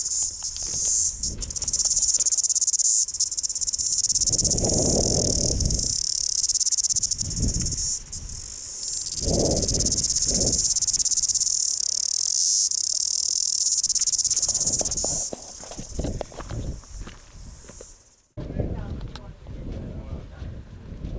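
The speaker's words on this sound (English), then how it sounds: "Oh, there's the cicada." Loud, continuous shrill buzzing of a cicada dominating the scene at Cape Reinga, New Zealand, with someone talking intermittently beneath it before the droning cuts off.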